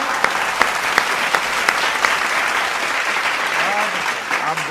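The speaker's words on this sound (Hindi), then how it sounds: "कुछ लोगों ने थोड़ी सी कम तालियां बजाई है" An audience at a Hindi poetry recital bursts into applause, a loud crowd of clapping with sharp individual claps near the microphone, while a voice talks over part of it.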